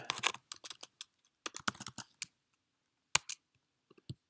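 Quick bursts of keystrokes on a computer keyboard while entering notation shorthand in Sibelius, close and crisp with short pauses between clusters of clicks.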